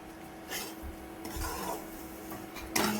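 Semolina (rava) roasts in ghee in a pan over a high gas flame for sheera, and a spoon scrapes and stirs it in soft, rasping strokes. The sound is faint and close, with a brief louder scrape near the end and no talking.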